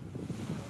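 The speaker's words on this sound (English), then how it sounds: "Look at that Atlantic Ocean, Long Island Sound" Surf rolls in steadily at a Long Island Sound beach on the Atlantic side, with wind buffeting the microphone and sailboats out on the water, a continuous low wash without speech.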